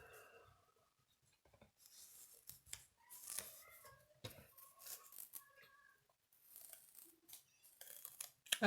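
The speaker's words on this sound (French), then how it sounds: "Le ciseau pour couper le 3D." Scissors snip through 3D double-sided foam tape while making a paper card, giving a series of faint, close, irregular cuts and rustles in a quiet room.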